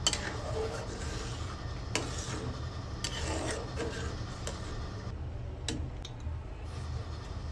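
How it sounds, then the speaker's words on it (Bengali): Milk with carrots being stirred continuously in a pot as it boils down for jaggery payesh, a soft rasping scrape repeating at a steady pace over a low bubbling rumble, with a few sharp ticks of metal. "এটা অনেকক্ষণ ধরে জাল দিয়ে দুধটা একটু ঘন করে নিতে হবে এবং সব সময় নাড়তে হবে কন্টিনিউয়াসলি।"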